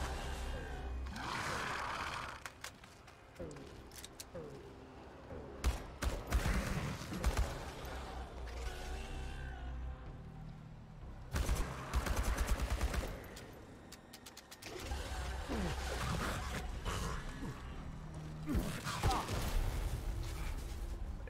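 Gunfire in the video game Chernobylite comes in scattered shots and short rattling bursts, separated by quieter stretches of game ambience over about twenty seconds.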